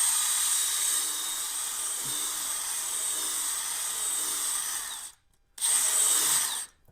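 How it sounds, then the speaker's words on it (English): A power drill whining steadily at close range while drilling out a puncture hole in the tire of a 2002 Honda GL1800 Goldwing motorcycle, cutting off briefly near the end before a final short burst. "So now I'm going to go ahead and drill this out."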